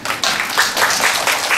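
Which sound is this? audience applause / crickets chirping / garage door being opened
audience applause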